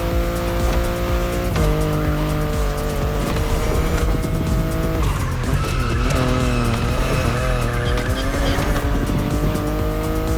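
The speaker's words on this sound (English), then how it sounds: "The BMW i8 is a car that stands out from the crowds." A BMW i8 races in The Crew Motorfest, its engine droning loud and steady with shifting pitch and tires squealing through turns, with no talking over it.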